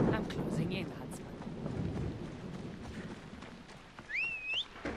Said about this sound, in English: There is a storm rolling in.